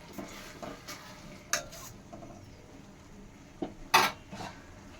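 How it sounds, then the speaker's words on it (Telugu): Dry fruits dropped into a pan while semiya kesari is being made, giving a few sharp clattering hits and light stirring scrapes over a faint sizzle, close and without talk. "ఇప్పుడు అదే ప్యాన్లో అయితే నేను డ్రై ఫ్రూట్స్ అయితే వేస్తున్నాను"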